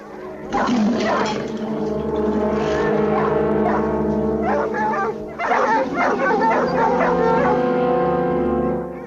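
Hunting hounds bark and bay repeatedly over a sustained low droning tone, loud and steady throughout, during a puma hunt with horses.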